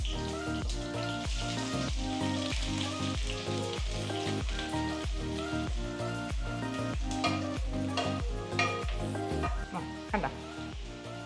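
Four sliced onions hit hot coconut oil for beef varattiyathu and fry with a loud, close, continuous sizzle, with rhythmic stirring scrapes over it.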